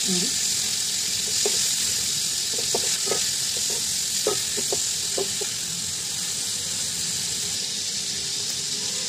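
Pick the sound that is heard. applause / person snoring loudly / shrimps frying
shrimps frying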